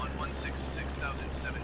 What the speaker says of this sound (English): scoot around in my Icon jet